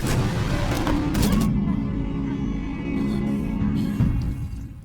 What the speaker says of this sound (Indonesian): Tetapi salah satu gangster itu menembak anak buahnya.